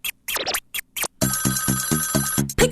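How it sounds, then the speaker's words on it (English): A custom ringtone on a new phone plays a bright repeating electronic tone, loud and close, with a short musical phrase before and after it. "When a girl calls in with a custom tone and is ringing on your brand new phone"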